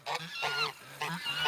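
Geese at an animal sanctuary give two loud, close nasal honks, each a harsh call with a short pause between them.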